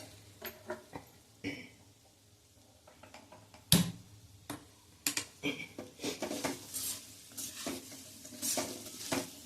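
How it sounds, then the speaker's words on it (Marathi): Medium-sized pieces of chopped raw mango sautéed over a medium gas flame. A spoon clatters and scrapes against the pan in irregular bursts over a soft, continuous sizzle, growing busier toward the end. "आणि हे व्यवस्थित परतून घ्यायचंय. गॅसची फ्लेम मीडियम ठेवायची आहे."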